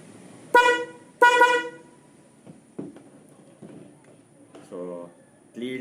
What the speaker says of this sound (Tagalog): Okay, so Denso Snail horn in 3